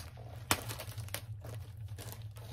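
Heavy tape peeled and crinkled off a plastic comic book bag, a close, continuous rustle with one sharp rip near the start over a low steady hum.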